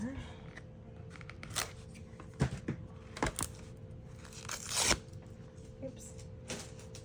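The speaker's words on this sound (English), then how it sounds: "So let me cut this piece here." Scissors snip through a sheet from a 6x8 paper pad in a series of short, crisp cuts with soft rustling between them, close up and quiet, while someone talks in the room.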